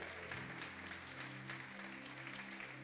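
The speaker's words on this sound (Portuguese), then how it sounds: "Você pode aplaudir o Senhor?" A church congregation at a family service applauding together, a steady wash of clapping from a crowd that runs through the whole moment at moderate distance.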